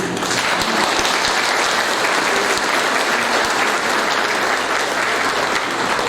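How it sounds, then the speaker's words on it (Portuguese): A congregation applauds steadily at the reinauguration of an Adventist church, a loud, dense wash of clapping from a large crowd indoors that holds for several seconds without speech. "Eu peço uma salva de palmas para ele."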